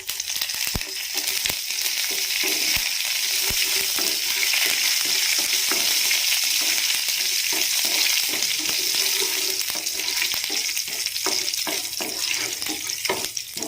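A tempering of mustard seeds, cumin, dried red chili and curry leaves fries in oil with a steady, dense sizzle and crackle, with scattered pops and some stirring, close up and continuous throughout.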